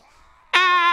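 A sudden harsh, buzzing zombie scream from the video game Dead Island bursts in after a faint hum and holds steady and loud to the end.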